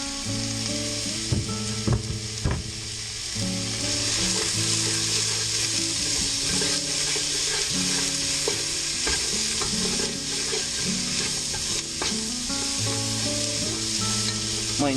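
Onion and garlic fry in oil in a pan for a wild shaggy mane mushroom soup, with a steady loud sizzle and repeated scraping clatter of stirring throughout, no voices.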